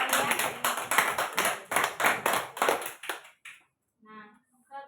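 Classroom of students clapping together for a classmate, a sustained burst of applause for about three seconds that fades out, followed by faint talk.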